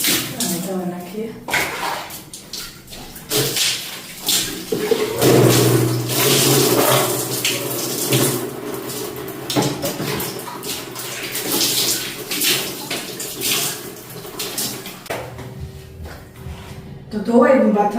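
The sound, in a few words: water washing the bathroom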